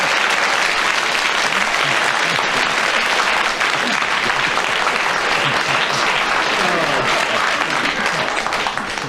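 Studio audience applause during a radio panel game show, sustained dense clapping from a large crowd that stays loud and even for around nine seconds, a few faint voices buried underneath.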